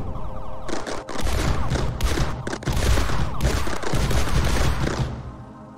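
Shotgun-like weapons in the video game Mindustry fire a loud, dense, continuous barrage of rapid blasts, with brief gaps and a tapering tail at the end.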